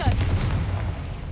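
A Confringo spell explosion in the video game Hogwarts Legacy, one heavy booming blast with a low rumbling decay over about a second.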